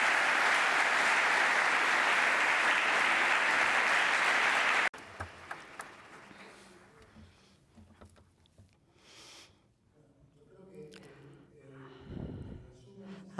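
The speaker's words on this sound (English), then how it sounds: "A big applause to all of them." Loud audience applause fills a keynote address by someone for about five seconds, then stops abruptly as a single voice resumes speaking over a quiet hall.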